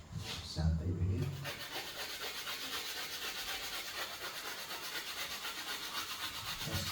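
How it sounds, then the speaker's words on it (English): A stick of coarse charcoal is ground against sandpaper, giving a steady close scratchy rubbing that runs continuously throughout, with a brief low thump near the start. "let's grind a little bit my charcoal"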